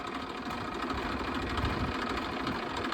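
A tractor engine runs with a rotavator attached, a steady dense mechanical drone with rapid knocking pulses, close and continuous with no voices.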